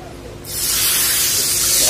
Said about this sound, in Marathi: आपली फोडणी यावर आपण घालून घेणार आहोत